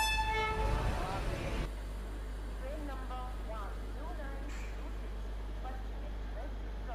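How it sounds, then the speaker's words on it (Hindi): A long, loud train horn blares with a rich harmonic tone at Ludhiana railway station, then cuts off, leaving low rumbling engine noise and a voice speaking over it. "बड़ा लंबा हॉर्न है"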